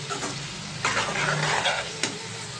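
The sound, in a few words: pre-cooked raw prawns added to tomato in hot pan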